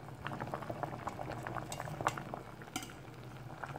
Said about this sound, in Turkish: Sadece soğan kabuklarını suda kaynatıyoruz.